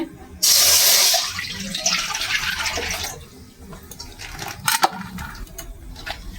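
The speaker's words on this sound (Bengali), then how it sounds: "আমি জল দিয়ে দেবো চাউমিনটাকে সিদ্ধ করার জন্য।" Water pours into a wok on a lit gas stove to boil chowmein, a loud rushing splash at first that settles into a steadier trickle and gurgle, with a few small clatters near the end.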